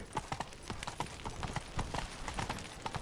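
Roach, Geralt's horse in The Witcher 3, trots with clear rhythmic hoof clip-clops on a hard surface, steady and close, with no talk over it.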